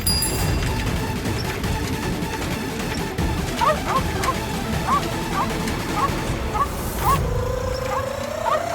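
A dog barks in a quick run of short, sharp yaps that cuts through a dense, loud background din, with the barks repeating at a steady pace toward the end.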